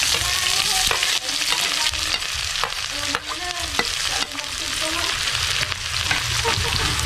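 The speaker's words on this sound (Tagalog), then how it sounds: "Magisa po muna tayo ng sibuyas." Onions sauté in hot cooking oil, giving a steady, close sizzle with scraping stir strokes throughout and no talking.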